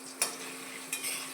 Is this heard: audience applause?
no